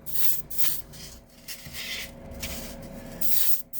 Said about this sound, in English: It's been a little bit since I've used the airbrush. So here we go. I'm gonna go with super light passes.